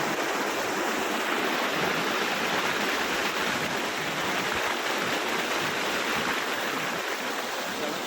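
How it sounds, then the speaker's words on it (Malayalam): River water rushing steadily over the Koodalkadavu check dam in Wayanad, a broad, loud, unbroken roar of flowing water close by, with no voices over it. "നല്ല വീതി നല്ല ഒഴുക്കുണ്ട് കേട്ടോ."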